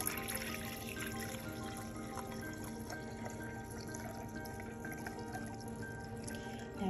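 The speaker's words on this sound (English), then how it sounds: "I'm gonna pour some distilled water in." Distilled water trickles and pours steadily into a Disney Cinderella snow globe, a faint, continuous liquid stream heard close with no talking.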